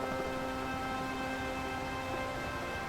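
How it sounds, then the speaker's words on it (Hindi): Steady cartoon rain falls as an even, dense hiss, soft and continuous with no breaks, alone without voices. "ये बारिश का सिलसिला"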